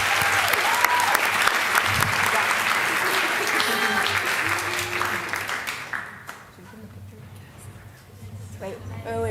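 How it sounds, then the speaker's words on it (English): Loud, sustained applause for student athlete seniors at a school sports awards event, with crowd chatter mixed in for about six seconds, then the clapping fades to quieter voices and scattered noise. "Please give a round of applause to this year's SAC seniors"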